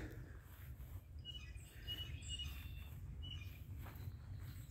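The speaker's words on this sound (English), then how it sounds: "up here the birds are just crazy" Birds chirp and call along a grassy creekside trail in spring, small bright calls scattered over steady low outdoor rumble, moderately near, with no talk.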